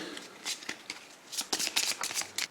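Playing cards are shuffled back into a deck during a tabletop session of the Pathfinder Adventure Card Game, a burst of crisp riffling and flicking followed by several quick, close bursts, with no talking.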